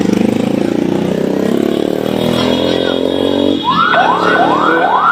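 Emergency siren wailing in rising sweeps near a burning shopping mall, joining a loud, steady roar of crowd and traffic noise, the repeated whoops standing out clearly toward the end.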